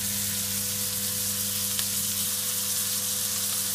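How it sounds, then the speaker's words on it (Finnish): Stuffed reindeer steaks fry in a pan with a constant, dense sizzle, loud and close, holding steady without pause and with no voices. "Ja paistellaan kypsäksi ja syödään makioituiksi."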